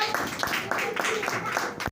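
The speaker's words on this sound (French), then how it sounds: "Applaudissez, Imran." Children in a classroom clap for a classmate, a quick, rhythmic patter of small hands held steady for a couple of seconds, with voices mixed in.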